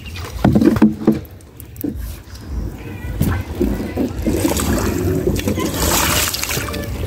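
A wooden boat is rowed through a village waterway choked with water hyacinth, with intermittent paddle splashes and trickling water nearby, accompanied by people talking.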